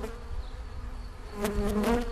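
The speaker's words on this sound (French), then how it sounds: "les abeilles ne veulent pas rentrer dans la ruche" Bees from a swarm outside the hive in a park near a housing estate make a continuous low buzzing hum that swells slightly near the end, close by.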